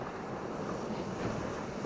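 Wind buffets the microphone on a beach at seven in the morning, with crashing waves and surf over clear water blending into a continuous loud roar.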